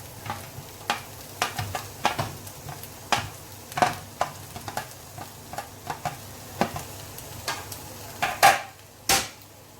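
Zucchini and onion dropped into a hot pan for a pasta dish, a low steady sizzle under scattered sharp scrapes and clinks of a spoon stirring, with two louder knocks near the end.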